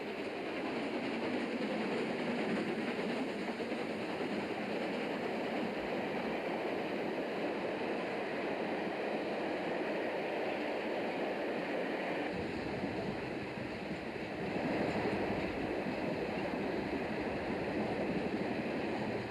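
The Flying Scotsman steam locomotive climbs the Bethungra Spiral in the hills of New South Wales, Australia, with a continuous, heavy rolling roar and rumble that holds steady throughout, with no voices.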